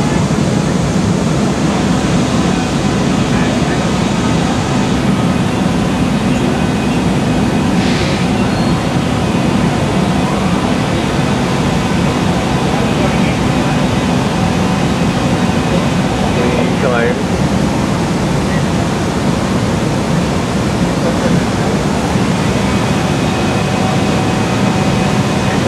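Barrel International ozone denim processing machines run with a loud, steady industrial roar that stays at one level throughout, with a few faint clicks and knocks over the noise.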